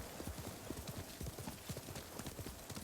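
Horse hooves clip-clop steadily in the video game Ghost of Tsushima, quick rhythmic thuds at moderate distance over faint background hiss.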